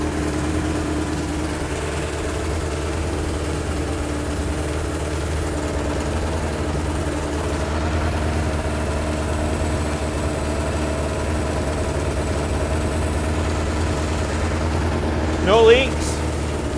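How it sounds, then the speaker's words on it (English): A Suzuki Katana motorcycle engine, left standing for 31 years and running off a boost pack, idles steadily with a low, even rumble from start to finish, close and loud, with a brief sharper sound near the end. "If I turn boost pack off, it shuts engine off."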